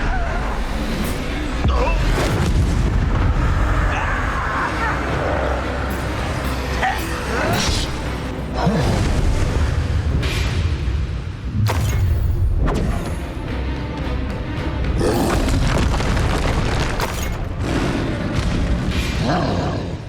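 The Bombarda spell explodes in the video game Hogwarts Legacy on Switch, with repeated heavy booms and roaring blasts layered over whooshes and battle noise, as voices talk over the action.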